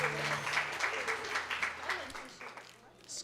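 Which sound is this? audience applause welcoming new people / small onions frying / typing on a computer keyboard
audience applause welcoming new people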